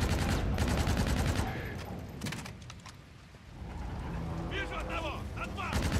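Gunfire rattles nearly continuously in the Call of Duty: Infinite Warfare campaign, with dense bursts of automatic shots and booming impacts that dip briefly midway and then return under a background of game effects.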